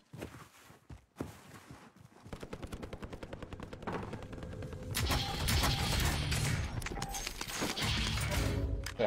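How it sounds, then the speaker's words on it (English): Video-game gunfire in a multiplayer shooter, with scattered single shots giving way to rapid automatic bursts that grow louder and denser, heavy and sustained toward the end. "they're shooting to the left too"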